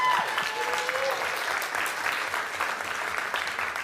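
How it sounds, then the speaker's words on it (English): An auction crowd at a masquerade fundraiser breaks into sustained applause, a dense, even wash of clapping filling the room for several seconds. "Give me a round of applause."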